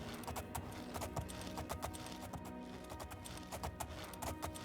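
A horse gallops up a hill in a video game, rapid rhythmic clip-clop hoofbeats running continuously and fairly loud over a steady ambient backdrop.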